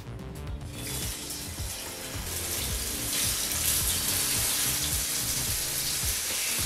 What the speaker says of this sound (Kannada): ಈಗ ನಾವು ಫಿಶನ್ನು ತವಾಗೆ ಸೇರಿಸ್ಕೊಳ್ಳೋಣ.